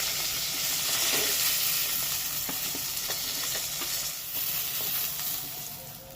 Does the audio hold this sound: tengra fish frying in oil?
yes